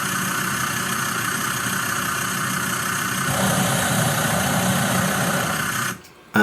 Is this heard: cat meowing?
no